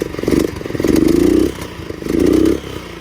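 A beginner motorcycle revived after sitting a long time idles with a steady low putter, then revs up twice in rising swells that fall back to idle, close and loud with no talking.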